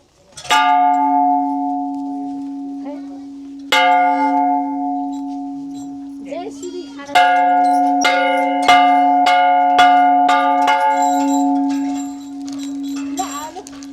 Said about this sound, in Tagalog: They put this Bell na. bell.